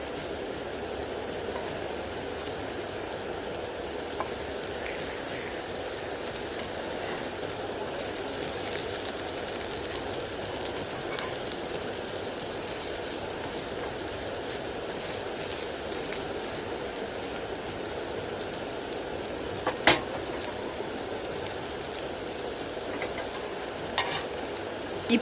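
Capsicum and egg pieces sizzle steadily in a pan, a continuous, even crackle of frying that runs alone, with a sharp clack of a utensil near the end.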